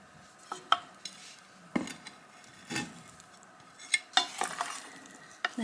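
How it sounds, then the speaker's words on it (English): Corned beef chunks are stirred through a pasty filling in a pan, giving scattered scrapes and clinks of a utensil against the pan in short bursts with a faint sizzle underneath. "Then just mix it in."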